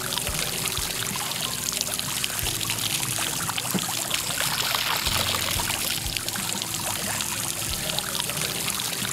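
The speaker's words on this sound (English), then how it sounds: "Make sure you run fresh water through all the screws and fasteners." Fresh water pours steadily over the screws and fasteners of a Waydoo Flyer ONE electric hydrofoil board, a constant splashing rinse running close and loud throughout, with occasional knocks and taps.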